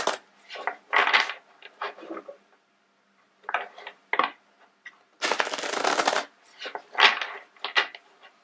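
A deck of tarot cards being shuffled, with repeated riffling bursts and short rustling snaps, close and fairly loud, separated by brief pauses and ending in one longer continuous shuffle.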